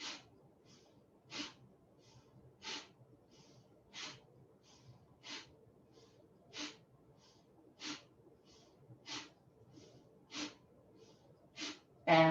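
Forceful cleansing exhalations pushed out through the nose during a yoga breathing exercise, about ten sharp puffs at a steady rhythm roughly a second apart, close and quiet, with no talking.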